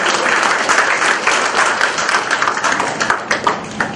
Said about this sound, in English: How about a collective round of applause for this?